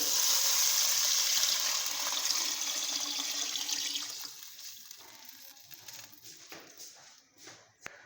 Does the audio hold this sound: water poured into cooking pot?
yes